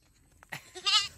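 A single goat bleat, close and fairly loud, a short wavering cry after a brief soft noise, with no talking.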